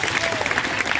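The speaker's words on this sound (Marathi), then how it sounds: "मग एकदा जोरात टाळ्या वाजवा." Schoolchildren at a Zilla Parishad primary school in Dhavdi clap loudly and steadily together, a dense, continuous patter of many small hands filling the room from start to finish.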